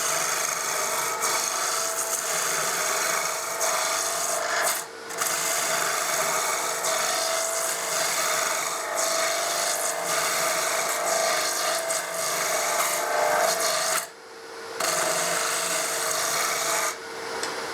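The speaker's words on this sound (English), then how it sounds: "use my spindle gouge as almost as a skew chisel, just to remove material quickly" A spindle gouge cuts steadily into a spinning workpiece on a wood lathe, a continuous loud rasping shave that runs for most of the stretch and breaks off briefly twice.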